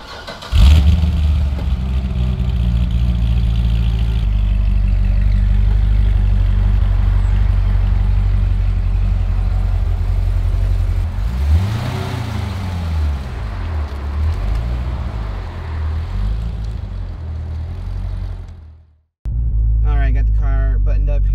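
A Corvette with a newly fitted short-throw shifter starts and idles with a deep, loud throb, then revs in rising and falling sweeps, cuts off, and picks back up on a test drive.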